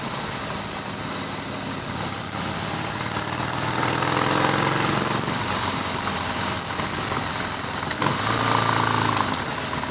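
Harley-Davidson Softail Custom motorcycle cruising along a countryside road at about 20 mph, its engine a steady, fairly loud drone with wind noise that rises slightly partway through, no talking.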